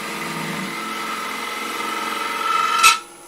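Bowl gouge cutting into a wood core spinning on a lathe, a steady close grinding rasp that builds slightly before ending in a sharp crack as the cut finishes.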